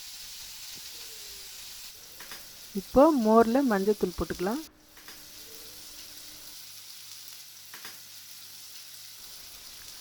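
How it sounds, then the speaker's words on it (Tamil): Onion, tomato and curry leaves sauté in a pan for Tamil mor kuzhambu, giving a soft, steady sizzle throughout. A brief stretch of speech passes over it midway. "வெங்காயம், தக்காளி, கருவேப்பிலை போட்டுக்கலாம். இப்போது நல்லா இதை வதக்கிக்கலாம்."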